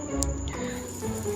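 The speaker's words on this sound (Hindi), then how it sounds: "धो देती हूँ फटाफट" Clothes being washed by hand at home, with wet fabric squishing and water dripping and trickling close by in a steady, continuous wash.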